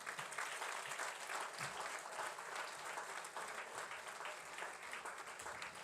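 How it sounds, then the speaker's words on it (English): Sustained audience applause at a university awards night, steady dense clapping from a large crowd throughout, filling the hall at an even level. "Big round of applause, ladies and gentlemen."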